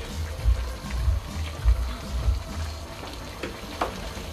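Pork fries in a pot of bubbling water for Guyanese-style fried rice, giving a soft, steady sizzle with low rhythmic bubbling pulses underneath, fairly quiet and without talk.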